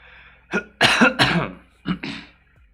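Several rough, close coughs in short bursts, two clusters with a brief pause between, no talking.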